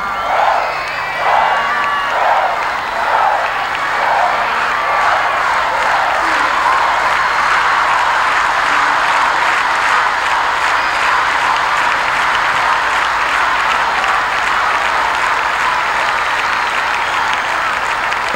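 A large festival audience at the 1989 Viña del Mar International Festival applauds a singer, sustained loud clapping and cheering that fills the whole stretch without a break.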